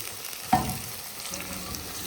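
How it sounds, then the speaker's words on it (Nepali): Onions frying in hot oil in a home kitchen, a sudden loud sizzle as they hit the pan, then a steady softer crackle continuing alone. "तेल तातिसक्या थियो, अब प्याजलाई रातो हुनेसम्म त भुट्नु पर्यो।"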